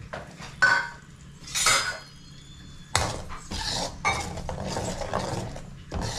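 A spatula scraping and clattering in a pan as a raw-ground masala paste of cloves, coriander seed and dried chillies cooks in oil, with loud close bursts of stirring and metallic knocks.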